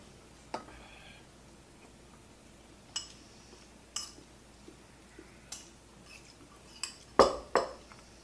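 Chili mac being mixed in a pot: sparse metallic clinks and taps of a utensil against the pot, quiet and irregular, with a louder cluster of scraping knocks near the end.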